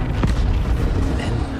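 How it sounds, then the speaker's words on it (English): Cannon artillery fires in the video game Battlefield 1, a deep booming blast followed by rumbling aftermath and low, dense battle noise. "First, the firestorm from the cannon."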